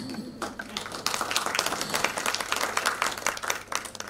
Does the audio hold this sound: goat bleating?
no